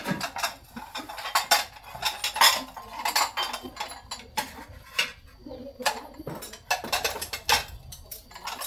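Ceramic bowls and metal pots clatter and clink as they are handled and stacked, a rapid series of close, sharp knocks and rattles with no talk.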